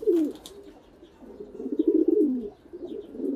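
Pigeons pairing up, a male and a female, make soft, close cooing calls in a few rolling bursts separated by brief pauses.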